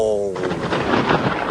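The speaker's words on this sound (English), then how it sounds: "Oh, I love me a thunderstorm" A short voiced exclamation gives way to a loud, booming crack of thunder in a Central Florida summer thunderstorm, the broad rumbling burst filling the rest of the moment.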